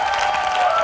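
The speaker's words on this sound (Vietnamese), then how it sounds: "một tràng pháo tay nồng nhiệt cho phần trình diễn của Salody và đồng đội B-boy của mình" Dense, steady applause from a crowd at a street dance competition final, cheering a B-boy crew's performance, loud and close in a brief wash of clapping.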